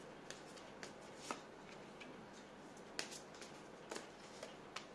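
Tarot cards being shuffled and drawn by hand, with faint, irregular, crisp card slaps and riffles close up in a quiet room.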